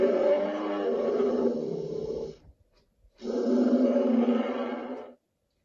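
A bear gives two long, deep roars, loud and close, each lasting about two seconds, separated by a short silent pause, with no other sounds around them.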